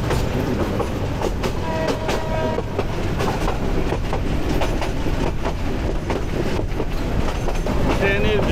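A passenger train runs through hilly country near Bhatiary station, heard from inside a carriage as a loud, continuous rattle with rhythmic clicks of wheels on rail joints, a short squeal near the end and voices murmuring in the background.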